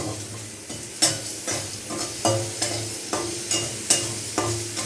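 Dry whole spices (mustard seed, fenugreek, cumin, mace) rattle and scrape in a pan as they dry-roast, stirred in a steady rhythm of roughly one stroke per second, close and clear.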